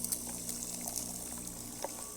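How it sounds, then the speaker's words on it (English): Hot water pours from a freshly serviced Rancilio Silvia espresso machine, a soft steady trickle and hiss at low level with no talking. "the hot water also works, so the machine functioning perfect."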